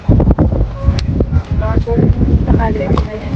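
Gusty wind buffets the microphone with low rumbling bursts while people talk over it.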